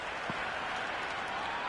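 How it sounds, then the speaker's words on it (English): A stadium crowd at a women's cricket match roars after a six. The sound is a dense, steady wash of cheering and clapping that fills the whole stretch at an even, loud level. "Will you listen to that crowd?"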